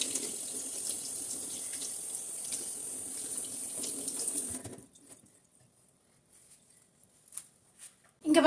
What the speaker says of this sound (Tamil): நம்ம கண்ணு முன்னாடி ஒரு தடவை வாஷ் பண்ணிக்கலாம்.